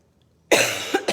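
A burst of coughing, close and loud, with a couple of sharper coughs trailing after the first harsh fit, following near silence.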